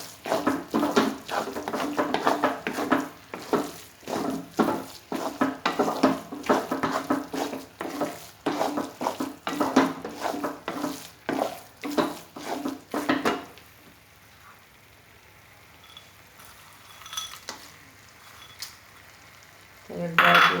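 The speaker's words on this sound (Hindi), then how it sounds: "इसको अच्छे से और भूनेंगे।" Methi laddu mixture being roasted in a pan, with busy scraping and clattering from a utensil against the pan over a soft sizzle, continuous and close, before dropping to quiet with faint clinks.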